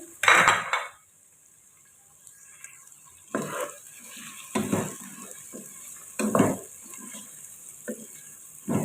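Cut potatoes are tipped into onions frying in a cooking pot, giving a loud clatter and sizzle at the start, then repeated bursts of stirring, scraping and metal utensil clinks over a soft frying hiss.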